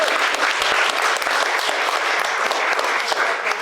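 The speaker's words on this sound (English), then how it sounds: "Can we give a round of applause, please" Dense, energetic applause from an audience at a Global Social Work Day presentation, continuous and close, with a faint murmur of crowd beneath the clapping.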